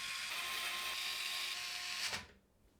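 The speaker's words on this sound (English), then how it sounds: "we'll go ahead and secure it into place with 9 of the motherboard screws" A power screwdriver whirs steadily for about two seconds, driving motherboard screws into a SAMA S50 PC case, then cuts off abruptly into near silence.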